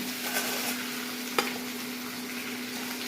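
Peanuts roasting in a pan for tangy rice, a soft continuous sizzle with light stirring and one sharp clack of the spoon against the pan.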